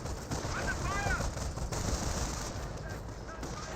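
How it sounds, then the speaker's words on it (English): A captured MG42 machine gun fires in Company of Heroes, steady rattling bursts amid battle noise, moderately loud and continuous with a commentator speaking over it. "MG42, receiving a bit of fire there."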